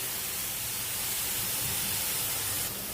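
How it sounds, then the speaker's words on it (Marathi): Three small onions frying in a pan until soft make a steady, even sizzle that holds at the same level throughout with no talking over it. "आता आपल्याला हा कांदा नरम होईपर्यंत भाजून घ्यायचा आहे"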